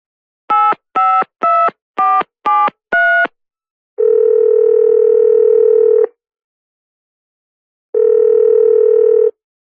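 A telephone keypad dials a call to a restaurant to book a table. Six short, loud tones come in quick succession, then two long ringing tones separated by a pause, with no voices.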